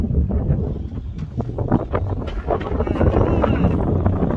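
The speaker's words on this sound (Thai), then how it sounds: "ลมอย่างแรงเลยครับ" Strong wind buffets the microphone outdoors during a rain shower on a fishing trip for snakehead, with steady low roaring rumble and scattered crackling patter throughout, some faint voice mixed in.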